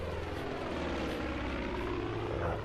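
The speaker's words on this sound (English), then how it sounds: "Let's see if the plane can get him." A propeller airplane in the Far Cry 5 video game drones steadily and fairly close, a continuous engine hum at moderate level with no talk over it.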